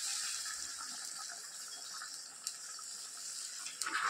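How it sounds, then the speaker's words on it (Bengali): Water poured slowly gives a soft, steady trickling splash, close and fairly quiet, with a couple of small clinks near the end. "আমি জলটা দিয়ে দিচ্ছি আস্তে আস্তে"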